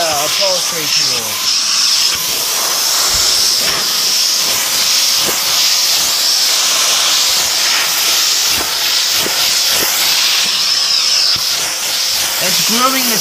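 A Dyson DC07 vacuum cleaner with its upholstery tool works over carpeted stairs, giving a loud, continuous airy hiss and whine with small bumps as the tool moves across the steps.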